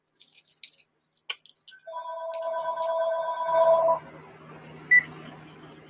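An old telephone in a home setting gives a rattling bell and clicking dial sounds, then sustained ringing tones that end with a single short beep, all fairly quiet with no talk.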